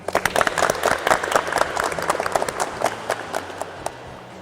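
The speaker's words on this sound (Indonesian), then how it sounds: "Beri tepuk tangan" A small group of students in an automotive class claps for a few seconds, scattered hand claps close by that gradually thin out and fade.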